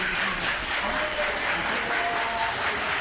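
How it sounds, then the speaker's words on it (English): A packed, standing-room-only crowd at a wrestling match roars steadily in support of a wrestler, a continuous wash of cheering and applause with no clear breaks. "Lumberzack trying to get some support from the crowd here"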